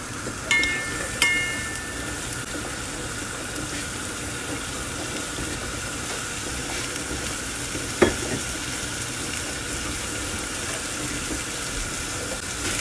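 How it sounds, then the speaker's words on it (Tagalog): Onion and garlic sauté in butter in a cooking pot, giving a steady, even sizzle throughout with a couple of faint clinks near the start and one brief knock midway; no one speaks. "Igisa natin ang sibuyas at saka bawang."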